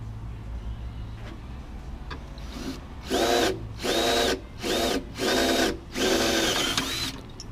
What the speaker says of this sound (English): drilling the seat for the mount.